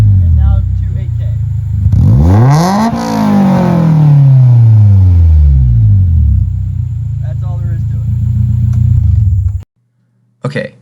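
A Honda S2000 fitted with an Invidia N1 catback exhaust revs hard to 8,000 rpm, its loud rasp climbing steeply, then sliding back down to a rumbling idle before cutting off, with a voice briefly heard nearby.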